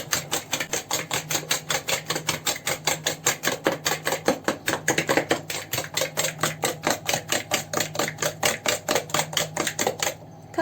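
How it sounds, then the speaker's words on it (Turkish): A spoon whisks two eggs with a glass of sugar in a bowl, a fast, even, clattering beat of dozens of strokes that runs close and loud and then stops. "iki adet yumurtayla bir su bardağı şekeri iyice çırpıcı yardımıyla çırpıyoruz ama eşim şu an kaşık tercih etti"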